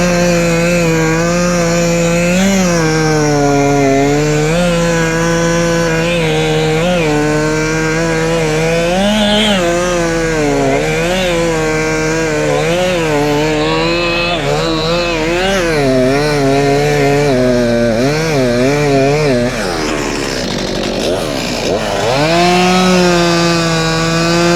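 A chainsaw making the back cut in a tree, loud and close, its engine whining and bogging in long wavering pitch as the chain bites through wood, with a rising rev near the end.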